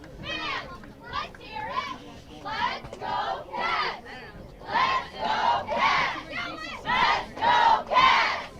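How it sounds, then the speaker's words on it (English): Varsity football crowd at a Gouverneur versus Ogdensburg Free Academy game roused by Gouverneur cheerleaders: loud rhythmic chanting and shouted cheers in repeated bursts, building stronger toward the end. "the Gouverneur cheerleaders attempting to get this crowd fired up"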